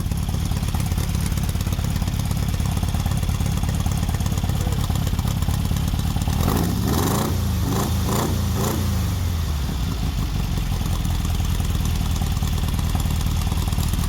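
A Dodge D100 pickup's big block V8 with a dual quad tunnel ram and Hookers headers idles loud and close in a steady rough rumble, with a short burst of throttle blips midway before it settles back.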